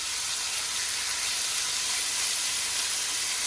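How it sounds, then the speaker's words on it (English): Hot oil popping and sizzling steadily while carne asada beef sears in a pan, a dense, continuous hiss with no pauses and no talking over it. "it's very hot and the oil's popping a lot"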